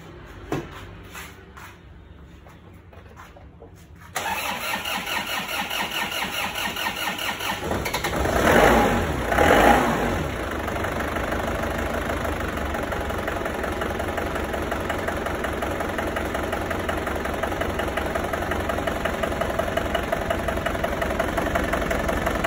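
An Isuzu Panther car engine cranks and fires after a quiet start, then settles into a rough, shaky idle, close and steady, with a brief louder rev surge partway through.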